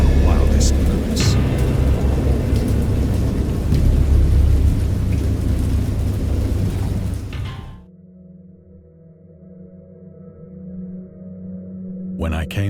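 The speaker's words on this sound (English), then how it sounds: "I heard pearls of thunder and other tones which nature utters only in her wildest moods" Heavy rain and rolling thunder in the Dagon horror video game roar loud and dense for several seconds, then cut abruptly to a low, quiet hum before the noise swells back in at the end.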